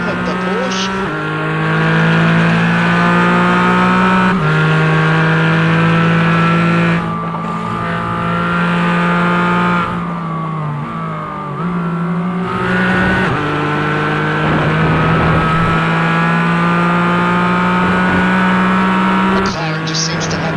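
A Porsche GT4 race car in a racing video game heard from a roof-mounted onboard camera, its engine droning steadily and shifting pitch through gear changes, with commentators talking over it throughout.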